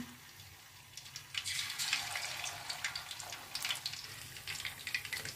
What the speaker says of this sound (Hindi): अब हम इसको करेंगे फ्राई। एक एक पीस करके मैं इसमें कढ़ाई में डालती जाती हूँ।